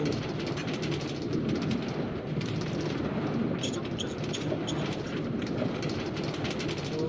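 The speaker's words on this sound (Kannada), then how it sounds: "ನಮ್ಮ ಮೈನ್ಕ್ರಾಫ್ಟ್ ಅಲ್ಲಿ ಮಿನಿ ರೈಲ್ವೆ ಕ್ರಿಯೇಟ್ ಮಾಡಿದ್ದೀನಿ" Minecraft minecart train rolling along rails on a mini intercity railway, a steady continuous rumble with rhythmic clicking throughout, fairly loud and unbroken.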